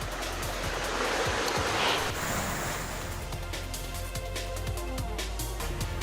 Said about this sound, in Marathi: या पावसामुळे नदी नाले काही मिनिटात ओसंडून वाहू लागले